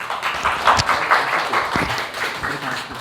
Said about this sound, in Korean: 우리 백부장 선교사님 모실 때 큰 박수로 환영해 주십시오